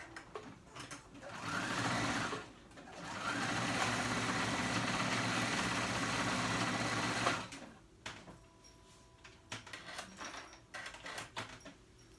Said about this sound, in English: with a zigzag stitch, I'm gonna go over that elastic, making sure it's facing the right way